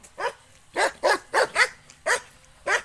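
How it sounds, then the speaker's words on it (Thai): A farm dog barks a warning at passersby near a grape plot, about seven sharp, close barks in an uneven rhythm with short gaps of quiet between them. "เนี่ยค่ะเขาก็จะเห่าเตือน"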